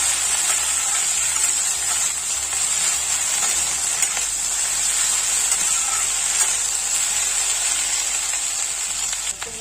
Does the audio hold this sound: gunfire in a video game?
no